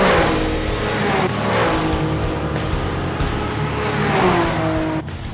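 Sports car engine in an anime, a Porsche 911 known as the Blackbird fitted with a new muffler, roars loud and close with sustained revving and shifting pitch, then cuts off abruptly near the end.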